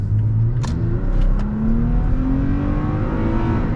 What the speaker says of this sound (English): Give you a little bit of acceleration here.